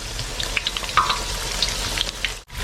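Taro pieces deep-frying in hot oil give a continuous close sizzle with scattered bright pops and crackles, briefly cut off near the end, with no talk.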